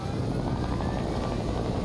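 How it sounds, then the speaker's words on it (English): Helicopter in a video game, a steady loud rotor and engine roar with continuous broadband whirring that holds level throughout. "Let's get the chopper."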